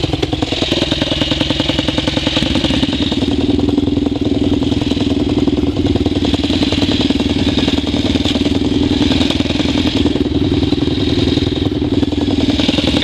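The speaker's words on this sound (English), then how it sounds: "I need to start the bike." A Suzuki A100 motorcycle engine running steadily close by, a loud, constant two-stroke buzz with a fast rhythmic pulse and no pauses.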